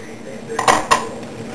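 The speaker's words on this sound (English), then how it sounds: "Almost done doing the dishes." Dishes being washed by hand: pots and cutlery clatter in two quick, close clinks over a quiet background of running water.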